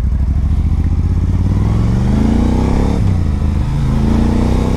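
A Moto Guzzi motorcycle engine revs up and smooths out, loud and close from the rider's position near the cylinders, with a rumbling, clattery idle climbing in pitch through steady throttle changes.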